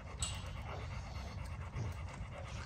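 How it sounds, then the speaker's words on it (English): A female dog pants rapidly and steadily up close, with a continuous rhythmic huffing and a faint whimper mixed in. "she's panting because she has a lot of drive and she want to be out"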